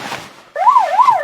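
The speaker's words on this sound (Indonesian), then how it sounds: "Namun di acara pernikahannya itu menjadi kacau karena alarm HP-nya Bani berbunyi." A mobile phone alarm rings out loud and close, a rising and falling electronic wail repeating steadily after a half-second of quieter noise, with no talking.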